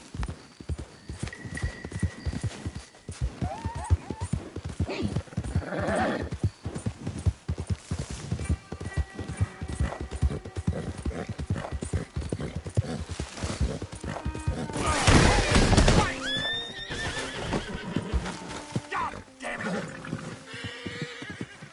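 A horse in a PS4 video game clip-clops along at a steady rhythmic pace, with a loud neigh near the middle and a few scattered voices talking over the hoofbeats.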